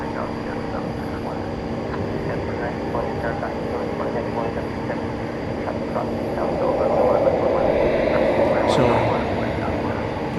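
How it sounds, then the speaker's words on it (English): A plane at night at DFW Airport, lined up on runway 18 Left for takeoff, sends out a steady, loud engine roar that swells slightly near the end, with a person talking over it. "Headed towards 18 left, which is the runway this plane is about to take off on."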